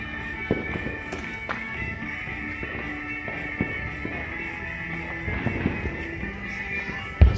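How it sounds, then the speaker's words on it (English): Fireworks set off outdoors on the Fourth of July, a scattered series of pops, thumps and crackles at varying distances over a steady background hiss, with a louder bang right at the end. "Must have like a gazillion frickin' fireworks saved up."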